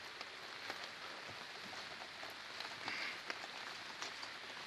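A heavy downpour pours onto a school building whose roof has been removed for repairs, a dense, even hiss of rain with sharper drips and splashes standing out now and then.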